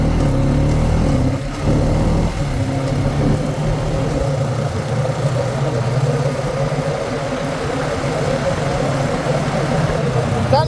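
A Honda Rancher ATV engine drones steadily while riding down a trail, a loud, continuous low rumble that holds throughout, with someone talking over it.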